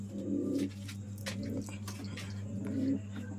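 Pigeons coo softly in a home loft where one bird has fallen ill after a soaking in the rain, with low, steady murmuring throughout and a constant background hum.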